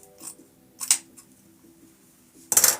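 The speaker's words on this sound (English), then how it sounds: "Let me just cut that down a little." Scissors snip through patriotic wreath material in a few short, crisp cuts near the microphone, the last one the loudest, with quiet rustling and handling in between.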